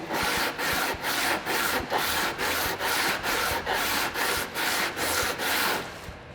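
Hand sanding of a wooden electric guitar body, a steady back-and-forth scraping rhythm of about a dozen even strokes, close and fairly loud, with no talking.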